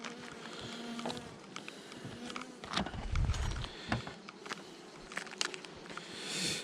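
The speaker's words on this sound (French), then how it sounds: "Et elle a une deuxième abeille, merde." Honeybees buzzing around an open beehive during a honey check, a steady close drone with passing individual bees and faint handling noises.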